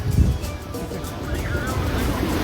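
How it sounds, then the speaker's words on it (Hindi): Sea waves washing onto the shore at Dwarka, a steady low rushing surf with wind under faint talk throughout. "आप देखिए ये समुद्र की लहरें हैं"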